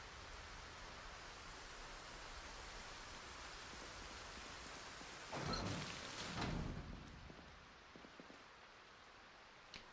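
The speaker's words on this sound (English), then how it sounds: "Rain is why you have the sound level mod" Steady rain falls throughout a Project Zomboid game scene, a constant broadband hiss with a brief louder swell midway, heard alone with no talk.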